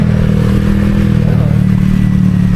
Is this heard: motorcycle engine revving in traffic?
yes